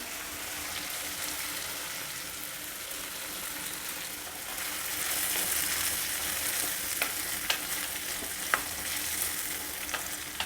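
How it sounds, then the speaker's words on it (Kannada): Ground tomato puree going into onions and tomatoes frying over high flame, a soft continuous sizzle with occasional sharp ticks and spatters, fairly quiet and close, no talking. "ಈಗ ರುಬ್ಕೊಂಡಿರೋ ಟೊಮೆಟೊ ಪ್ಯೂರಿನ ಇದರಲ್ಲಿ ಸೇರಿಸ್ತಾ ಇದ್ದೀನಿ"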